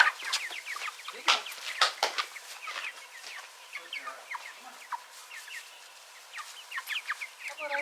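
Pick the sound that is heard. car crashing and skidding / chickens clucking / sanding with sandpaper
chickens clucking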